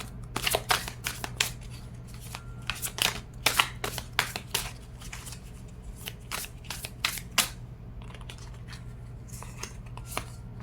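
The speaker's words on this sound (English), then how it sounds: "let me just go ahead and get these other cards out" Tarot cards are drawn from a deck and handled during a reading, a flurry of close, sharp snaps and slides in quick bursts over a low hum, without any talk.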